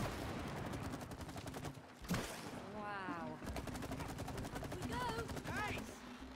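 Rapid bursts of automatic gunfire fill a war-zone level of the video game It Takes Two, a dense continuous barrage with a sharp blast near the middle, while players talk over it.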